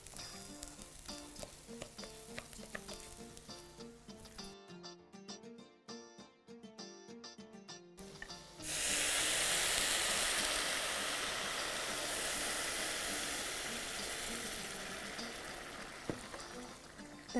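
Broth pours into a pot of basmati rice, bursting into a loud, rushing sizzle that holds steady after a few quiet clinks and stirring noises.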